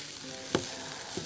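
A rice and meat mixture sizzles in a pan as it is stirred, with a soft steady frying hiss and two sharp, close scraping clacks of the utensil against the pan.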